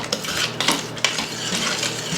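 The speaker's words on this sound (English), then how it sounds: "Just gonna stir it up." Metal spoon scraping and clinking against the inner pot of an Instant Pot while elk chili is stirred, with a few sharp clacks over a steady scraping texture, close and fairly loud with no talking.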